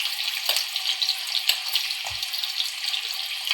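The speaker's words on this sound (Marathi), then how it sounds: "तेल तापला, आता कांदा टाकते." Onion frying in hot oil in a home kitchen for a fish dish, a steady close sizzle and crackle with a few stirring scrapes and a soft low thud, no talking.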